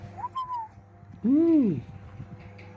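A rising-and-falling whistle swoops up and back down once, loud and close, after a faint shorter whistle, with a low hum underneath.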